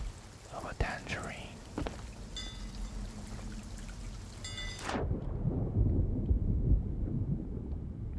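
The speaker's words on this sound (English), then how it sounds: "Thunder underwater sounds cool." Muffled thunder heard underwater in the pirate video game Sea of Thieves: a deep rolling rumble under a steady rain-like hiss, with a sharp swell midway before the low roar takes over, and soft voices beneath.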